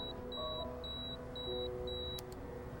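A pager beeping in a repeating pattern, five short evenly spaced electronic tones over a quiet low hum, ending with a couple of faint clicks.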